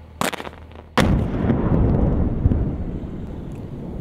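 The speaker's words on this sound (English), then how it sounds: "The booming echo of this controlled detonation" A controlled detonation destroys a weapons cache in Tangi Valley, Afghanistan: a sharp crack, then a deep blast that rolls into a long booming echo across the valley, loud and close.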